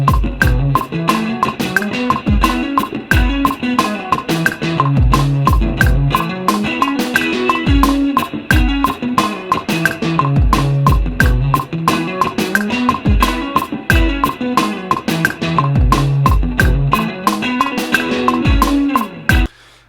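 Inside Logic Pro 9, a steady metronome clicks beneath a looping drum groove and a flexed electric guitar part, its even ticks cutting through a busy, continuous mix that runs the full length and cuts off at the end.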